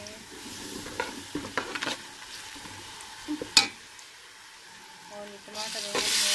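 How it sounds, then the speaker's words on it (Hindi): Browned onions frying in a pan with red chili and turmeric stirred in, soft sizzling under scattered scraping and clinking stirs, one sharp clatter midway, and the sizzle swells louder near the end. "प्याज ब्राउन हो गए हैं, अब हम इसमें ये लाल मिर्च और हल्दी शामिल करेंगे"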